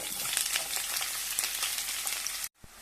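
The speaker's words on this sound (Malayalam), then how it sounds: "എണ്ണ ഒഴിച്ച് ചൂടായി ഇനി ഉള്ളി" Onions frying in hot oil in a pot on the stove for chicken biryani, a dense continuous sizzle with small crackles close by, cutting off abruptly near the end.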